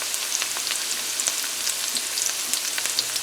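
Onions frying in a pan as the base for Guyanese stewed pork, a dense, close, continuous crackling sizzle with no voices.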